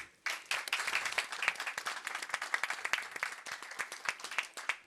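Audience applause at a Focus on the Americas session during World Water Week 2025, thanking the organizers: a dense, steady burst of many hands clapping that starts abruptly and carries on throughout, close and lively, with no talking over it.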